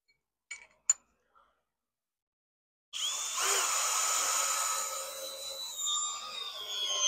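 A few brief clicks and taps, then silence, then a cordless drill in drill mode at speed 1, with a 2 amp-hour battery, whirs up and runs steadily at a high-pitched whine for several seconds.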